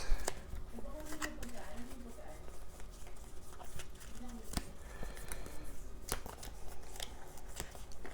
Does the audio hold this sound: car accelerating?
no